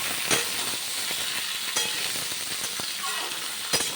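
Pointed gourd stirred and fried in oil for potol chingri, giving a steady sizzle broken by sharp spatula scrapes and knocks against the pan, close by, with no talk.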